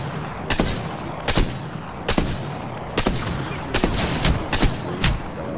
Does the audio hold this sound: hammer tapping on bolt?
no